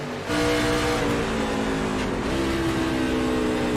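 Onboard the number 15 race truck in a Nashville truck series race, the engine drones loudly and steadily, its pitch dropping and then settling near the middle of the clip as it downshifts.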